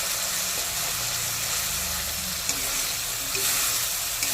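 Bottle gourd curry gravy sizzles steadily in hot oil in a pan as it is stirred, giving a constant close frying hiss with occasional scraping touches and no talking.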